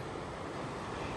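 River water flowing steadily in an army area near a gurudwara in Rajouri, Jammu and Kashmir, a continuous broadband rush with wind noise, alone without voices.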